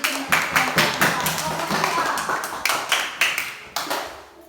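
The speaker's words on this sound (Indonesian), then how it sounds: "Ya, tepuk tangan." Small class clapping along in a few distinct bursts, sharp close claps rising and fading in groups, with a voice speaking between them.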